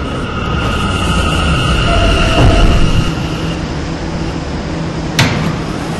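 A K subway train at Intervale Square station, steady low roar with tonal hums and a brief high squeal near the end; no voices.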